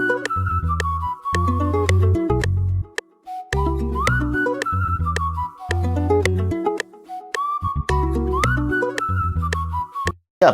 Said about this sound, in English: so we have this nice really whistle